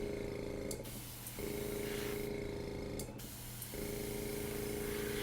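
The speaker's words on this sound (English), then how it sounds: "that weird noise, it's the air compressor" An air compressor runs steadily in a room used for alcohol ink painting, a continuous droning hum with a spray-like hiss that cuts out briefly twice and resumes.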